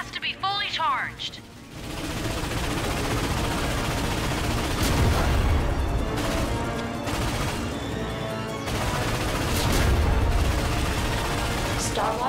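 Dense, continuous gunfire and booming ion cannon blasts in the video game Ratchet & Clank on PS4 roar almost without pause, with a brief stretch of talk at the start.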